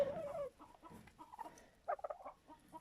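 Large white and black turkeys on a farm give faint, soft clucking and gobbling calls in short bursts, with no talk over them.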